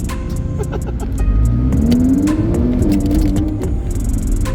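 A Lamborghini Huracan engine revving loudly and close, the pitch climbing and holding in a strained mid-range roar.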